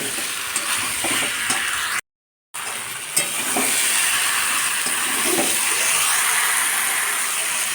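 Nearly cooked raw jackfruit sautés with spices in a pan, giving a dense continuous sizzle with light stirring scrapes and a brief break of silence partway through.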